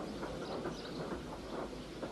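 A steam engine train rolls along the rails with a steady rumbling clatter and a faint rhythmic clickety-clack, fairly close and continuous, with no voices.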